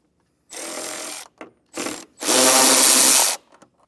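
A screw on a vehicle's passenger side panel, removed with a power driver and an 8mm socket during a hidden trailer hitch install: three close, loud whirring bursts, the last longest, with brief clicks between.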